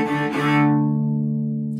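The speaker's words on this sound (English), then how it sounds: "it's double stops with the long, short, short, long, short, short rhythm" A cello bows two strings together in a long-short-short rhythm from "Boil Them Cabbage Down," closing on a sustained ringing double stop.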